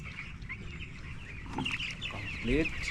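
Chickens cluck and chatter in a poultry farm over a steady background hum, with a louder run of clucks near the end.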